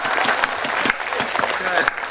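Audience clapping at a Hindi kavi sammelan, a comic poetry gathering, moderately loud and uneven with a few sharper claps standing out, while a voice speaks over parts of it.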